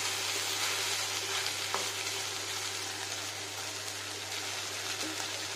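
Okra frying in a pan for a vegetarian dish, a steady soft sizzle holding at an even level throughout with a faint low hum beneath and no voices.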